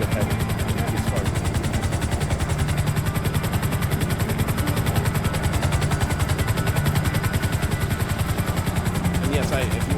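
Helicopter flying in the Grand RP video game, a steady loud rotor chop and engine drone throughout, with someone talking over it.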